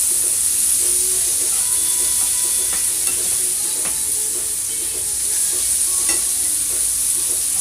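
Onions sizzle and wilt in a pan with a loud, steady hiss of frying, broken by scattered clinks and scrapes of stirring, close up and without speech.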